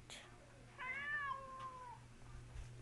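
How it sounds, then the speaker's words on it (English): A cartoon cat in the Webkinz video game gives a single drawn-out, rising and falling meow over a faint background hum, with a short click just before it. "Yes, there's cats here."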